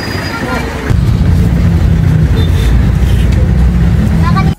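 A jeepney pulls up at a street corner, its engine rumbling loud and close with a steady low drone that kicks in after the first second and runs until it cuts off near the end, over wind and street noise.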